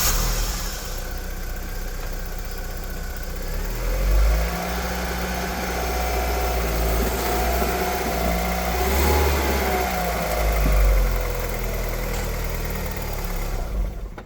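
A Vauxhall Cavalier with 17K miles drives up onto a two-piece ramp, its engine humming steadily and loud up close, swelling twice as it is revved to climb.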